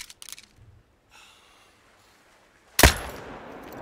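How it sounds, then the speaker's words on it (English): A single sharp .308 rifle shot from theHunter Call of the Wild cracks loudly after a quiet stretch of faint breathing and rustling, then trails off in a brief decaying echo. "we're gonna shoot it with the 308"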